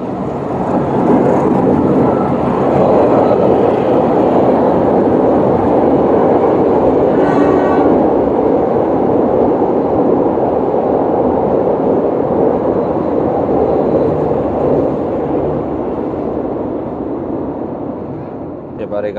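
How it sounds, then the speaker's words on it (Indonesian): A train passes close by with a loud, sustained rumble and rattle that swells and slowly fades, with a brief horn-like tone partway through. "Kereta lewat, bentar."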